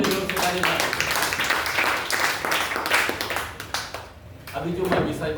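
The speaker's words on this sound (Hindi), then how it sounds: "ये यीशु के लिए जोर से ताली मारो।" A church congregation claps loudly during a Hindi-language worship service, with a dense burst of hand claps that fades briefly before rising again, mixed with voices.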